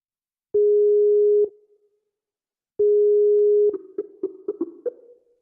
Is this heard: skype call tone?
yes